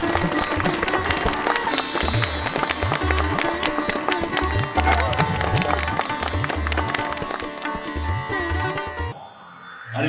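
A large crowd at a joint birth-anniversary celebration for Dr. Babasaheb Ambedkar and Chhatrapati Shivaji Maharaj applauds loudly and continuously, with dense clapping filling most of the stretch and a rhythmic drum beat running underneath before it cuts off near the end.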